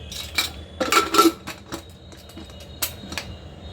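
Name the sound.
cooking pot being covered with lid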